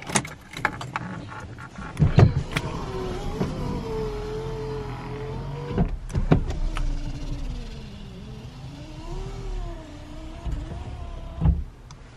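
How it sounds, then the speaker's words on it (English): A car's electric windows run up and down, their motors whining steadily as the pitch shifts, broken by occasional clicks and clunks at the start and end of each movement, heard close inside the vehicle. "Power windows, power steering,"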